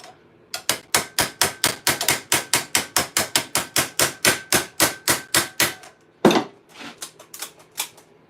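Quick, evenly spaced hammer blows ring out on a small rivet in half gauntlet steel armour, some twenty sharp metallic taps in a steady rhythm, then a pause and a few slower, irregular strikes.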